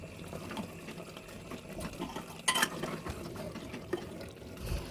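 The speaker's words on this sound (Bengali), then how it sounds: "তো চলো একটু গরম জল দিয়ে দিলাম একটু গরম জল" Hot water is poured into a pot of mutton that is steam-cooking, making a close, splashing pour with a few clinks of the pot and a low background hum.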